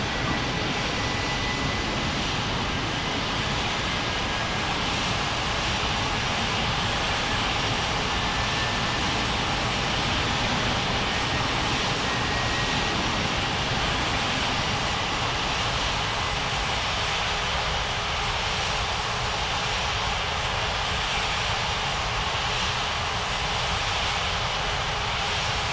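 An airliner's engines drone steadily on approach to land in a flight video game, a continuous broadband jet roar with no voices over it.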